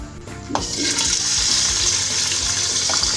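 Liver and its released water poured into a pan for masala kaleji, a brief clatter and then a loud, steady close rush of liquid with no talk.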